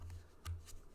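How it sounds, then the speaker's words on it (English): Tarot cards are laid out in a couple of quick soft swishes and taps, close and quiet over a low hum. "So I'm going to finish laying out these cards"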